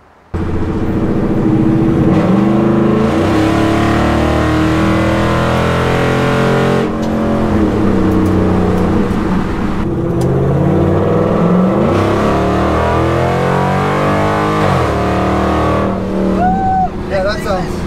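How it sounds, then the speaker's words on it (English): A bagged Ford F100 pickup truck engine revs steadily through its exhaust, a deep, rumbling drone that rises and falls in pitch, loud and close throughout. "It did make the sound better and it greatly reduced the noise in the cab."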